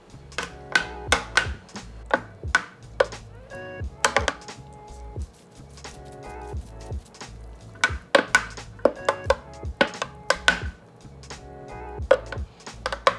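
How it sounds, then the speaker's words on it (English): A mangonada mixture of mango and Tajín is mixed by hand, giving a string of sharp clinks and taps of a utensil against a container, irregular and close, with brief tonal rings between strokes. "And then you're going to mix."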